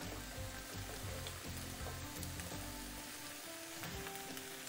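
Cooked pasta tipped into a hot frying pan with vegetables, a steady close-up sizzle and crackle with light stirring scrapes running throughout, no voices.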